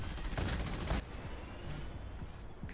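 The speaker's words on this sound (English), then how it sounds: "Enemy artillery is pounding us." Enemy artillery pounds away in a Halo Wars 2 battle, with a dense burst of booming barrage up front that drops to a steadier low rumble of ongoing bombardment and scattered impacts.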